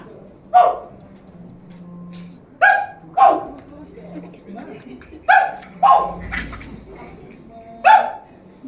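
A dog barks in sharp, separate yelps at a stage play in a Haryanvi theatre festival, several loud barks spaced a second or so apart, most likely a performer's voice imitating the dog.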